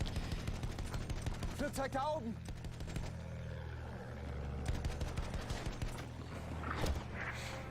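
Gunfire in Battlefield 1, with rapid bursts and scattered shots mixed with battle noise at moderate loudness, as a voice talks over the action.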